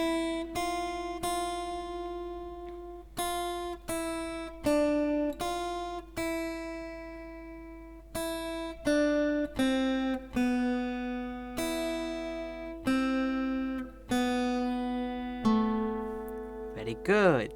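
A slow fingerstyle acoustic guitar picks the melody of "Bella Ciao", one clear plucked note at a time with brief gaps, close and unaccompanied.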